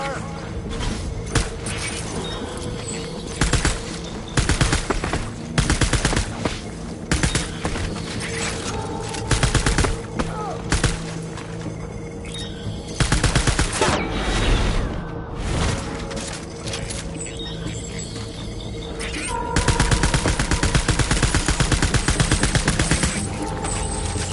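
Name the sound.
gunfire from the video game Death Stranding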